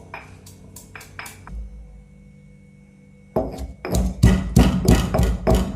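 Ingredients pounded in a mortar for onion pakoda: a few sharp, knocking strikes, a quieter pause, then a fast run of louder, close thumping blows with hard ringing edges.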